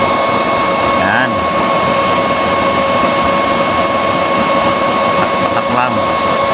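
A blower feeding a used-oil drip burner roars steadily and loudly throughout, a constant mechanical whir with a faint hum, keeping the fire going under a pot of boiling bamboo shoots.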